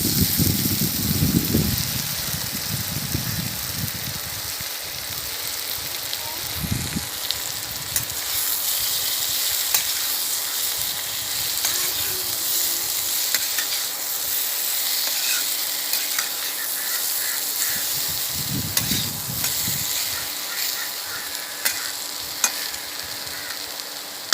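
Mixed masala for jackfruit seed fry sizzles and crackles steadily in hot coconut oil, close and continuous, with occasional stirring scrapes and soft knocks in the pan.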